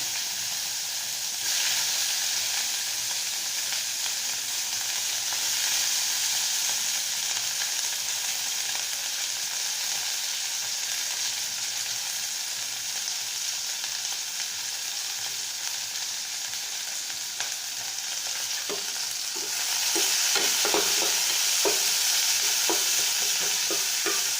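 Fish-pan onions and panch phoron fry in the same oil used for fish, giving a continuous loud sizzle with steady hiss, joined near the end by clattering stirring strokes against the pan.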